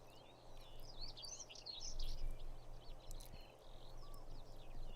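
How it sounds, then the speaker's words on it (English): Small bird chirps and tweets outdoors, several quick high calls scattered over a steady low hum, fairly faint and not very close. "You hear the birdie?"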